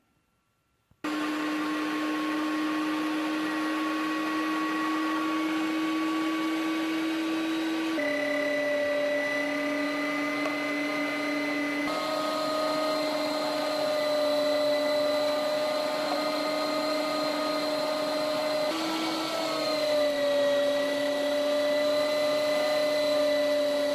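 A cheap little electric meat grinder chews through beaver meat with a steady, close motor whine that runs continuously, its pitch dipping and shifting slightly as the load changes.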